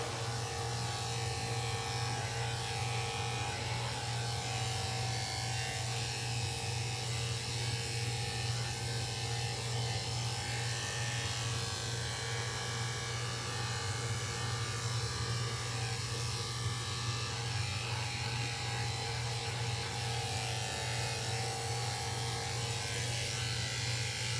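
Electric clippers buzz steadily and close, shaving the fur beneath a miniature schnauzer's eye, a constant unbroken hum with no talking.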